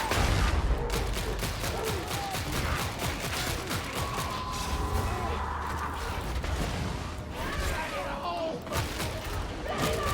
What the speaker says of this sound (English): just spam fire plasma pistol